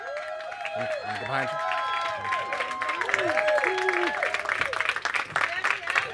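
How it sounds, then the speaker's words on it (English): Audience gives a standing ovation at a conference event, with sustained applause, cheering and crowd noise. Voices and calls rise over the clapping. "Y'all give a round up. Come on, stand up. Round of applause."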